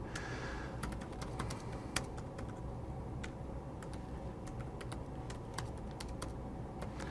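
Someone types steadily on a computer keyboard, a quick run of light clicking keystrokes heard close over a constant low hum of background noise.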